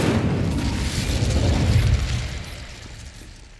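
A fire spell cast in the Hogwarts Legacy video game lets out a loud, sustained roaring burst that swells for about two seconds and then fades away, with no talking.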